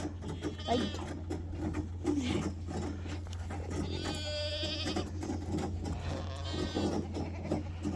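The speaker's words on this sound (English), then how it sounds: "So, you have to feed our goat." A goat on a dairy farm bleats close by in a few loud, wavering calls over a constant low hum, with faint voices and rustling in between.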